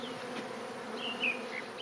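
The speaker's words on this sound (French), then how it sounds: "Les abeilles sont agglutinées sur cette branche." A swarm of honeybees clustered on a branch, gathered by old-fashioned methods on a Victorian farm, gives off a steady close buzzing drone, with a few louder individual bees passing nearby.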